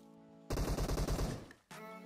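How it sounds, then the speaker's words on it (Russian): Rapid automatic gunfire in a shooter video game, a loud burst of closely spaced shots lasting about a second, trailing off before a steady tone returns, with no talk over it. "Идет опять же стрельба, его пытается как-то взять соперник на префайр."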